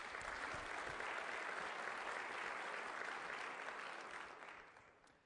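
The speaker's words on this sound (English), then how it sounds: "a round of applause for our innovation winners" Sustained audience applause at a tech conference keynote honoring innovation winners, a dense even wash of clapping from a large crowd that holds steady for about four seconds before fading out.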